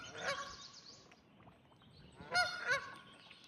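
Large waterfowl honking at a lake, two bursts of loud nasal calls about two seconds apart, moderately near, with a faint background of other birds and outdoor noise.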